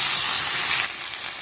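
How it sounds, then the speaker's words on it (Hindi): Mashed potato for aloo chokha fries in hot desi ghee with cumin, giving a close, steady bright sizzle and hiss that drops abruptly to a softer crackle partway through. "मैंने इसे अच्छे तरीके से घी में फ्राई कर लिया है। घी में जीरा डाला है।"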